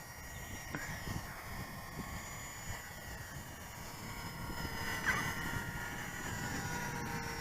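Small Jasco Spotter biplane RC model's electric motor held at full throttle while battling a strong headwind, a steady distant buzz under heavy wind noise.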